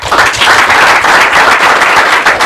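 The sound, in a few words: audience applause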